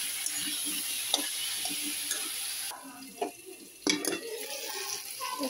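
Prawns fry in hot oil with a faint, steady sizzle, broken by a few light clicks and scrapes of stirring.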